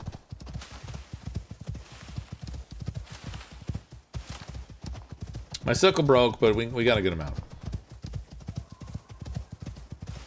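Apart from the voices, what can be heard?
llama hooves clip-clopping in Icarus video game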